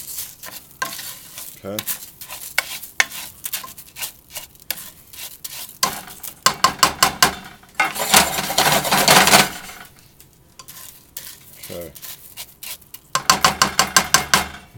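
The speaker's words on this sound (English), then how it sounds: "we're going to brown the arborio rice." Arborio rice browns in butter in a pan, with a spoon scraping and stirring in bursts over a steady sizzle, and a voice briefly speaks.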